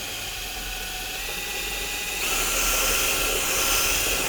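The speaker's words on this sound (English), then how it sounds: "But let's drill them out then" A steady, high-pitched whine of a power drill drilling out pop rivets on a 1985 Ford Fiesta, running continuously, rising slightly in pitch and intensity partway through.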